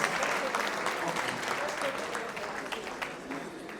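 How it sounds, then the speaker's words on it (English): Sustained applause from a large crowd at a press conference, steady and fairly loud throughout, with a faint voice underneath. "And I want the applause to continue."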